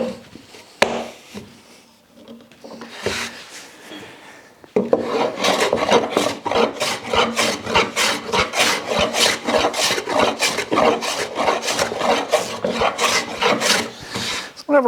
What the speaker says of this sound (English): Whenever I'm flattening a board like this, I just work across the grain first.